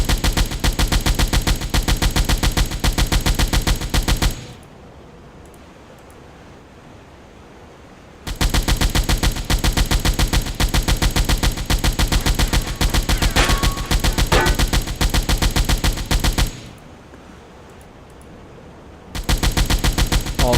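Submarine deck guns firing at a ship's gunners in the naval game Silent Hunter 4, loud sustained rapid automatic fire in long bursts broken by short pauses of quieter sea ambience.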